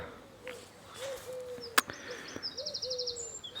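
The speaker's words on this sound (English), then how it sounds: "So there's wrens everywhere." Small birds, wrens among them, sing outdoors along an overgrown pathway, giving fairly faint, scattered chirps and trills with a few brief sharp calls and a sustained high warbling run near the end.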